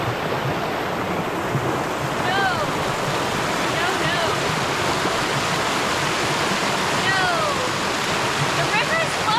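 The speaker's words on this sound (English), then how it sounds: "The river is flowing so fast. It's really moving fast." A fast-flowing river roars steadily and close on a Southern California waterfall hike, a dense continuous rush with a few faint chirps cutting through.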